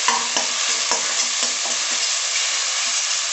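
Spices and aromatics frying briefly in a pan for homemade wheat noodles, giving a loud, dense, continuous sizzle close by with regular light scrapes and taps of a stirring spoon, no voices.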